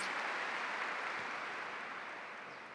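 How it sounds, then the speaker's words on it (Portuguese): A church congregation applauding during a Catholic preaching, a continuous, even wash of many hands clapping that fades a little toward the end. "Vamos aplaudir de verdade nosso Senhor Jesus Cristo"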